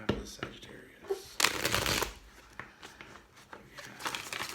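Tarot cards riffle and slap in several quick bursts, one loud dense shuffle in the middle and lighter flicks around it, close up with a little background voice.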